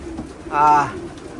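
A single soft pigeon coo swells and fades within a second, close by, over a faint background hum.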